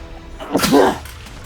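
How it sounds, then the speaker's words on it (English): One sharp, loud human sneeze bursts out close to the microphone while a game plays, a quick intake followed by an explosive release. "I had to sneeze, and I hate sneezing."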